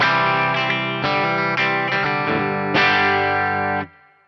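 An electric guitar runs through a clean JTM 45 amp tone with delay and reverb. Several strummed chords ring out loud and close, then cut off sharply near the end, with no talking.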